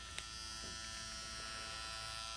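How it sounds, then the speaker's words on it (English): A tattoo machine buzzes in a steady, even electric drone throughout, close and continuous with no talk. "Said he loved the sound of the tattoo gun"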